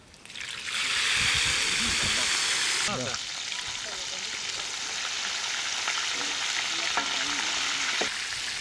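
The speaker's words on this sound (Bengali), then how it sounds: "একসাথে এখন আমরা ভাজিয়ে নেবো" Chicken for kabsa biryani sizzles loudly in a hot pan, a dense, steady frying hiss with occasional stirring clinks, while a voice briefly talks over it.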